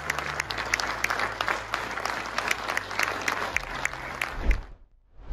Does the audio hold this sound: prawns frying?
no